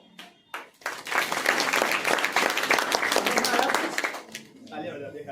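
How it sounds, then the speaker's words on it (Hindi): An audience applauds at a communication-skills talk: dense, steady clapping swells in after a second, holds for about three seconds, then fades into quieter scattered sounds. "तालियां बजा दे खाली।"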